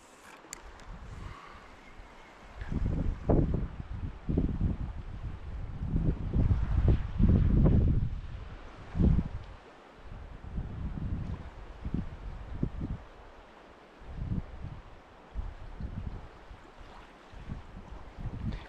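Strong wind buffets the microphone in gusty, rumbling bursts by the sea, rising and falling over roughly twenty seconds with water sounds beneath.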